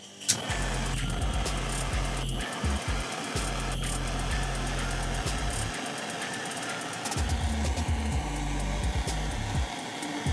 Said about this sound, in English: This is a food torch, by the way. It's for heating food or doing flambés